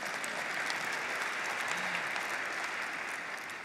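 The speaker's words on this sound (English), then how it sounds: "you can clap for that" Audience applause at a political interview event, a dense, sustained wash of clapping that holds steady at even loudness for the whole stretch, with no voices over it.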